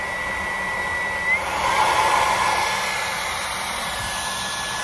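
A LEVOIT cordless vacuum cleaner runs steadily on turbo boost, giving a loud, continuous whirring motor hum that rises slightly in intensity for a second or two mid-clip, with no talking.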